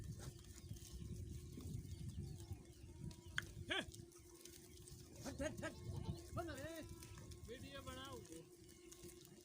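Goats on a village farm in Pakistan bleat several times in wavering cries over a low hum and running water, with people talking throughout.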